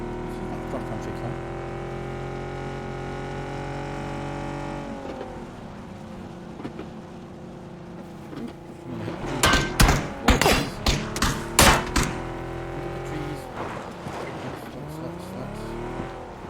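A car in the video game PUBG drives along a road, its engine a steady drone that dips and shifts pitch, with a burst of harsh clattering impacts partway through before the engine hum returns.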